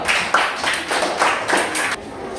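Classroom applause for a student group, a burst of many hands clapping close by in rapid, uneven rhythm that swells in waves before cutting off sharply near the end.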